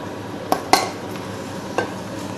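A wooden spoon stirs sugar into thick quince fruit paste in a pot, giving three sharp knocks and scrapes against the pot over a low, steady background hiss.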